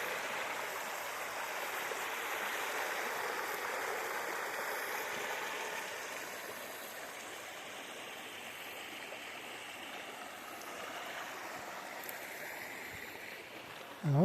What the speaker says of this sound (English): That's creek though, Pugilistic Creek.